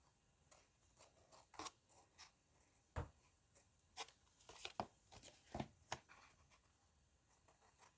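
Scissors trim around packaging paper in a quiet craft setting, with faint, close snips and rustles arriving as scattered single cuts and soft paper handling.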